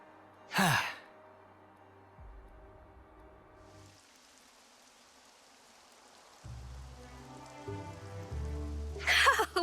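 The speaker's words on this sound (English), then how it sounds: "Now we wait for the rain." Rain falling in Xenoblade Chronicles 3, a soft hiss of rainfall that sets in partway through amid sparse musical tones, with breathy sighs at the start and end.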